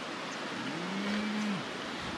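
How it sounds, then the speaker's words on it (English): A single cow moos once from a country farm field in New South Wales, a drawn-out low call rising and then falling, moderately distant, over steady outdoor background noise, with no talk. "one of the cows just called out"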